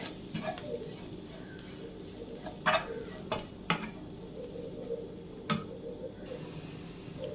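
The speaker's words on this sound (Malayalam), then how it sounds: "ഈ പൊടികളെല്ലാം കൂടെ നമുക്കൊന്ന് വഴറ്റിയെടുക്കാം പച്ചമണം മാറുന്നത് വരെ" Spice powders sautéing in a pan for a Kerala-style prawn puttu, a low background sizzle broken by several sharp spatula scrapes and taps against the pan, close and intermittent.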